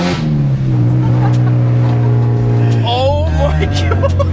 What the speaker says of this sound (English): In 1st gear, bro, it just went straight to redline.